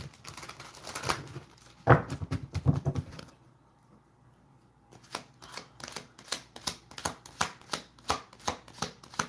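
Oracle cards shuffled in quick papery riffles and flicks, with a short silent pause in the middle before the rhythmic shuffling picks up again close by. No voice is heard.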